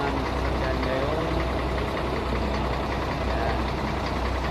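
The group's vehicle sits idling before a trip to Bataan for Visita Iglesia, a steady low engine rumble with a faint knocking texture running throughout, with voices in the background.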